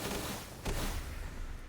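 Anti-air launcher in Fallout 4 fires a quick, faint burst of shots, a soft thumping blast around the middle over a low rumbling background with no talking.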